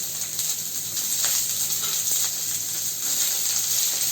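Onions frying in a pan with garlic cloves and a piece of ginger, giving a steady close sizzle and hiss that holds without a break, no voices.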